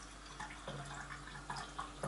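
Rinse water pours over a black kushime kyusu teapot during gyokuro tea preparation, a soft, steady trickle and splash with small drips, close by and quiet, with no talking.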